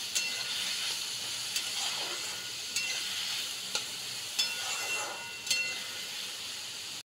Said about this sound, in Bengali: আমি আবারও একটুখানি নেড়ে সবজিগুলো আর একটু ভেজে নেব।